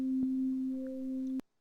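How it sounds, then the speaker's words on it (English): Unmodulated sine wave produced by granular synthesis in the CrusherX plugin: a steady, pure, sustained tone with a faint overtone and small clicks, cutting off abruptly near the end. "the more dominant gets the unmodulated sine wave"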